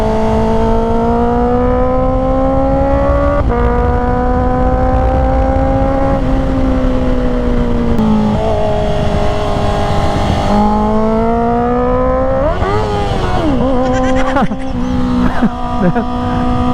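A 2024 Honda CB650R E-Clutch on fresh Road Sport 2 tires rides through twisty roads, its inline engine holding a steady droning note that rises and dips as the bike shifts and rolls off, with wind rush throughout.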